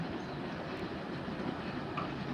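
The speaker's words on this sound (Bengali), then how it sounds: "হজরত শাহজালাল আন্তর্জাতিক বিমানবন্দর থার্ড টার্মিনালের সামনে দিয়ে ট্রেনটি যাচ্ছে" A train rolls past in front of the third terminal of Hazrat Shahjalal International Airport in Dhaka, coming from Kamalapur: a steady, loud rumbling roar of wheels and cars, continuous throughout with no voices.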